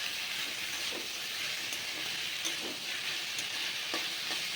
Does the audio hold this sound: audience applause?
no